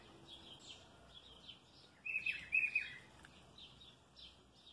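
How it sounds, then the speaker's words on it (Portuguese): Small birds chirp outdoors in a garden as rain begins, with a quick, bright cluster of tweets rising midway through over a soft, faint background hiss. "Começa a chover, os passarinhos ficam alegres."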